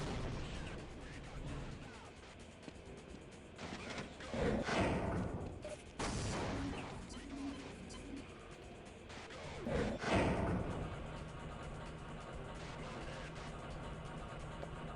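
Grenade blasts in the Half-Life shooter game, several loud booming bursts near 4.5, 6 and 10 seconds over a constant rumbling battle background, with no voices.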